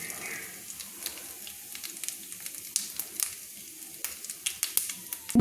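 Whole cumin seeds sizzle softly in hot oil as they are stirred, with light crackles and scraping taps rising toward the end.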